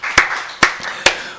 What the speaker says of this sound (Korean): 우리 살아계신 하나님께 박수를 영광 드리겠습니다.